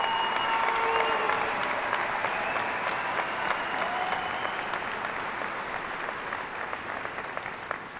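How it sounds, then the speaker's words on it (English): Audience at a high school commencement applauding the salutatorians, a continuous even wash of many hands clapping in a large hall, steady for the whole stretch and fading slightly toward the end, with faint tonal cues underneath. "Let's give the salutatorians a well-deserved round of applause."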